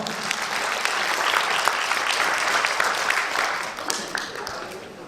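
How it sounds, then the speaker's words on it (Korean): Sustained applause fills the hall at a national kindness awards ceremony, a dense, fairly close clatter of many hands that holds steady for several seconds before easing slightly. "박수 부탁드립니다."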